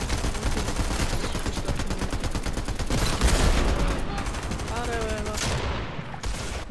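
Dense Fortnite gunfire in first-person view, with rapid continuous shots crackling close by. Bursts overlap with a sniper's heavier reports, and a voice briefly cuts in near the end.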